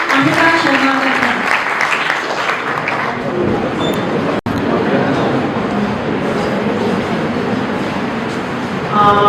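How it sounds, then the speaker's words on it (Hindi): At a college workshop on loans and youth programs, an audience gives a welcoming round of applause, a loud, dense burst of clapping that carries on for several seconds, with some voices and a brief dropout partway through. "जोरदार तालियों का स्वागत कीजिए"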